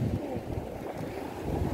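Low, rumbling wash of sea waves with a rising high tide, wind buffeting the microphone, steady and fairly close.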